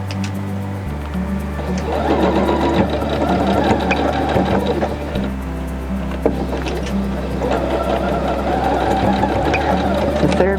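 A sewing machine back stitching to secure pleats in fabric runs in steady mechanical bursts, close and fairly loud, with a continuous motor hum and rapid needle rhythm throughout.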